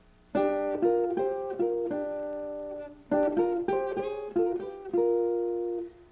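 Guitar picks short phrases in paired harmony notes in fifths, jazz chord-melody style, two bursts of plucked notes separated by a brief pause, ringing out at the end.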